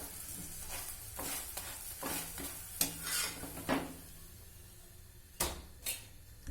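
Potato porota fries quietly in butter in a pan, a soft sizzle under repeated spatula scrapes, taps and clinks against the metal, with two sharper knocks toward the end.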